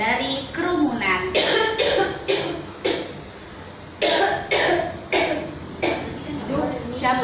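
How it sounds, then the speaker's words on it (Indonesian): Harsh coughing from a person with influenza, a series of about eight sharp, fairly loud coughs coming in short bursts with brief pauses between them. "Aduh, siapa ya yang batuk?"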